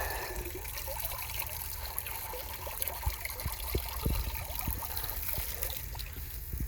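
Water trickles and drips steadily as a pump is pulled out of a filled cistern, with a faint continuous wash and scattered louder splashes near the end, no voices.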